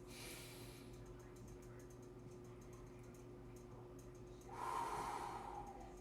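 A person takes a deep, slow breath, a soft airy inhale at the start and a fuller, louder exhale near the end, close and otherwise quiet.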